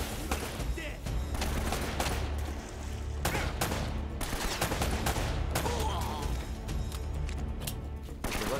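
Dense gunfire fills a shootout in the video game Drake's Fortune Remastered, with rapid, continuous shots and bursts layered over a steady low rumble throughout.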